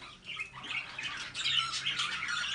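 Many pet birds in a breeding cage chirp and squawk together, a dense, shrill, overlapping chatter that carries on steadily and close-up with no voices.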